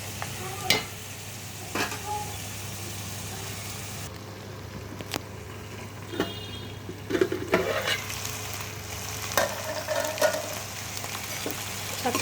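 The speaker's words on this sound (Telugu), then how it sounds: "చక్కగా మసాలాలో చికెన్ ఫ్రై అవుతుంది ఫ్రెండ్స్." Chicken sizzles and fries in masala in a pan, with a steady crackle, occasional stirring scrapes and faint clinks throughout, close and moderately loud with no talking.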